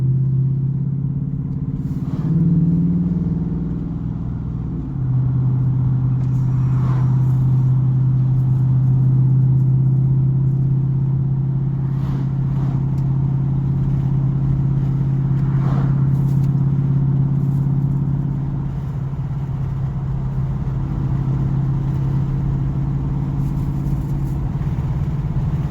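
A 2019 Dodge Charger R/T with a louder aftermarket exhaust, heard from inside the cabin as a steady, deep V8 drone that swells briefly and holds loud and continuous throughout, with no talking.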